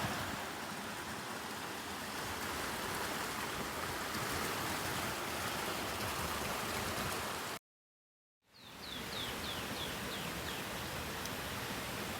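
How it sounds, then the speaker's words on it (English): A creek in a canyon riparian habitat runs steadily in the background as a faint, even wash of flowing water, broken by a short silent gap and a few faint chirps. "You might be able to hear the creek running in the background"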